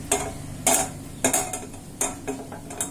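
Whole black peppercorns crackle in hot ghee in a pan, giving sharp irregular pops spaced about half a second apart, near and fairly quiet, with no voices.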